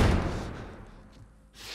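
A heavy door slams shut with a deep thud while doors are barricaded in The Last of Us Part I, the boom fading into a low rumble before a soft rustle at the end.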